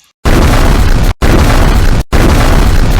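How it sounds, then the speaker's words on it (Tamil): Bombs exploding on American warships during the Pearl Harbor attack: loud, dense, continuous roaring blasts filling the whole stretch, broken by two very brief gaps, with no voices. "திடீரென அமெரிக்க கப்பல்கள் மீது குண்டுகள் மழை பொழியத் தொடங்கின"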